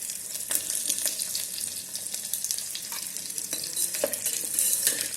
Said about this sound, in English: now add some roughly chopped green capsicum and onions